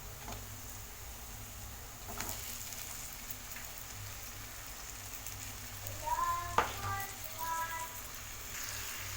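Masala-marinated chicken sizzles faintly in a hot pan as a Kerala chicken biryani is cooked, giving a soft, steady hiss with a few light pops and clinks.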